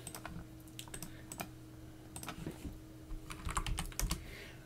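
Fingers type a command on a computer keyboard in Ubuntu Linux, with quick clusters of crisp key clicks separated by short pauses, close and fairly quiet over a faint electrical hum.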